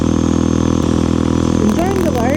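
A Honda CB350 or Triumph Speed 400 motorcycle exhaust rumbles loudly and steadily, with a pitch shift near the end, and no clear speech over it.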